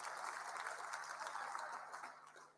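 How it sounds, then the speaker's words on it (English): An audience gives sustained applause at a national school results announcement event, a dense, even wash of clapping that fades slightly at the end. "Give DG a very big hand of applause, please."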